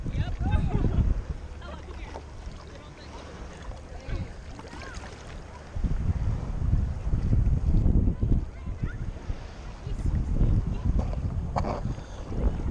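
Boat moving across water with steady wind buffeting the microphone and low rumbling splashes, voices talking intermittently throughout.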